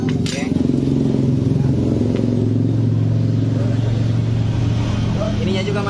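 A Honda Scoopy scooter with a noisy engine idles steadily up close, a constant low rumble with a faint clatter throughout, while people talk over it.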